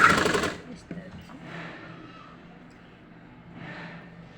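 A sewing machine stitches a folded one-inch fabric edge for a salwar, a loud burst of rapid mechanical chatter at the start, then fainter quiet intervals with a voice talking softly over low background.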